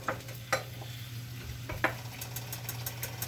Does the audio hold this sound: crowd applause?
no